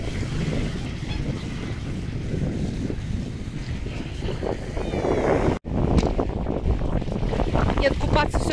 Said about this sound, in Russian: Ветер дует холодный.